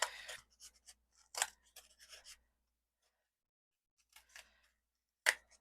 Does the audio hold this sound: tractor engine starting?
no